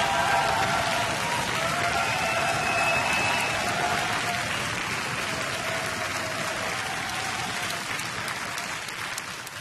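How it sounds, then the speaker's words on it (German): A studio audience applauds a lipsync battle contestant on a Swiss TV show, a dense, sustained wash of clapping heard throughout without any talk that eases off slightly toward the end. "dann klatschen Sie jetzt!"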